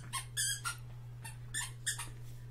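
A dog gives a string of high, thin squeaks in uneven bursts, some short and some drawn out, over a steady low electrical hum in an indoor room.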